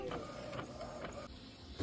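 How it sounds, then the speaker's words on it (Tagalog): Steady mechanical whirring of a printer feeding and printing a sheet of 180 GSM photo paper, with rhythmic pulses and a clunk at the end. "ipiprint ko na siya gamit ang photo paper 180 GSM"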